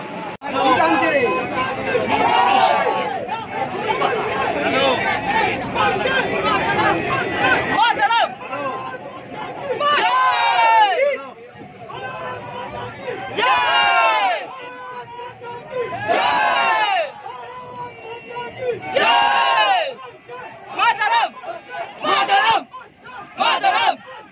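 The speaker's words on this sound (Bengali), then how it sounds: "ভিড় দেখুন, ভিড় দেখুন" Football fans heading to VYBK stadium for an India vs Kuwait match crowd around a metro station, with loud overlapping chatter, close voices and occasional shouts rising and falling in bursts.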